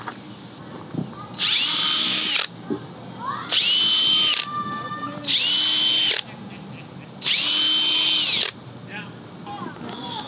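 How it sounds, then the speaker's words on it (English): A power drill whines in four separate bursts of about a second each, drilling out holes for a bolt, loud and close, with quieter workshop noise between them. "I'm going to drill these out so I can fit a proper bolt through"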